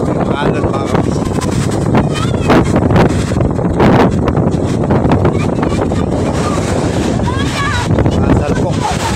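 Big waves pounding the shore at Manila Bay in Navotas, a loud continuous roar and crash of surf with heavy wind buffeting the microphone and someone speaking intermittently over it.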